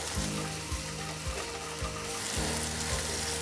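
Grated coconut stir-fries in plenty of oil with lime leaves for serundeng, a steady close sizzle broken by several rhythmic scraping stirs of the spatula across the pan.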